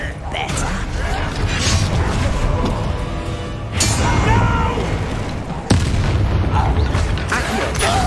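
Confringo fire spells blast in the Hogwarts Legacy video game, with two sharp booming impacts amid continuous loud combat noise and rumbling.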